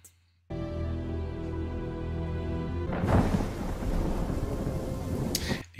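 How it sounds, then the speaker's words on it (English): Steady rain hisses loudly, joined midway by a broader wash of heavier downpour, continuous and close. "It's raining."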